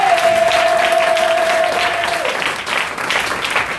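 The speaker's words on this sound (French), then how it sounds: "Acclamons Jésus" Church congregation applauding, a dense continuous wash of clapping that holds steady for several seconds, with a sustained tone fading out beneath it.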